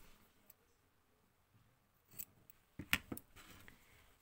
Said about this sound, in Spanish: cortamos los hilos